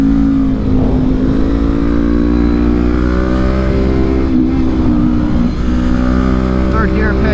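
Honda CB500X motorcycle pulling hard in third gear on an Oregon ride, its engine a loud, continuous, close buzzing drone held near the top of its revs with wind rush.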